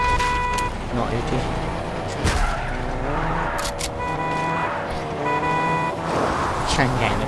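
A car in Fortnite Battle Royale revs its engine while its horn sounds in several sustained toots, with a steady game soundscape and a player's voice talking over it.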